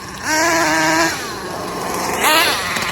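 Motorcycle engine revving hard as the bike accelerates on a slippery wet road, front end nearly lifting into a wheelie; a strong rising note from 0.3 to 1.1 seconds, then a second rev surge near 2.3 seconds, loud and close.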